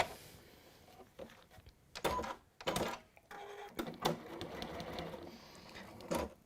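A sewing machine stitches fabric in bursts, its rapid mechanical whir starting and stopping several times at close range with no talk over it.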